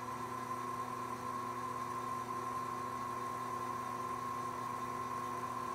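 A metal lathe turns with a solid carbide cutting tool on a small workpiece, producing a steady humming drone with a constant tonal whine and slight vibration, continuous and close without talk.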